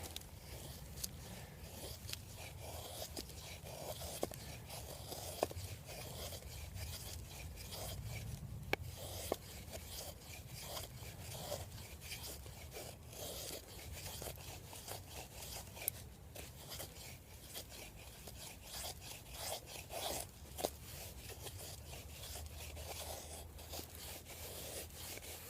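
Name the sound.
ESEE4 knife carving wood shavings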